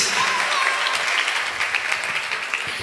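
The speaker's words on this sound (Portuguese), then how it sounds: "aplausos." Audience applause fills a celebration at a 15th birthday party in a park, a dense, steady wash of many hands clapping close by without pause.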